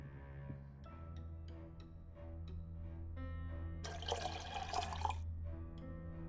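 Water pours into a photo developer dish in a video game, a faint splashing burst after soft scattered drips over a low background hum.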